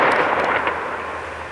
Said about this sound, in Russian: Все, фейерверк кончился,